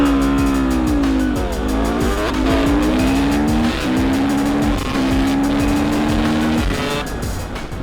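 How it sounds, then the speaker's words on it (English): Loud engines of a 450cc four-stroke and a 300cc two-stroke supermoto motorcycle scream close by during a drag race, their pitch climbing through repeated gear shifts with a raspy, continuous roar. "we're gonna do some flybys as well to hear incredible sound of these bikes"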